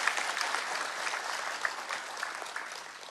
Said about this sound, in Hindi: इनका ताली बजा के स्वागत कीजिए आप